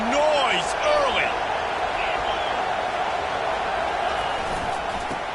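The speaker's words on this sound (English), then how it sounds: "This crowd bringing the energy and noise early." A college football stadium crowd at Iowa State vs Colorado makes a broad, continuous roar with a few whistles rising above it early on. A commentator's voice runs over the noise.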